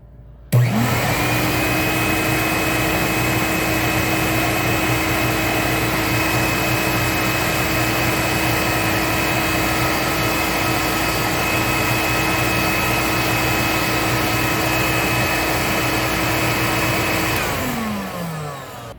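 A Hoover Dial-A-Matic 1136 vacuum cleaner switches on, runs with a steady loud roar and high whine for about seventeen seconds, then winds down, close and without any talking.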